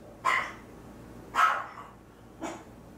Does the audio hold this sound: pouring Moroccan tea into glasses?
no